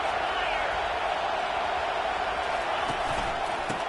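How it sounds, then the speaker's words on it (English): A football stadium crowd roars steadily behind the defense on third down, a loud, dense wall of noise that stays constant throughout. "Decibels rising as the crowd gets behind this defense on third down."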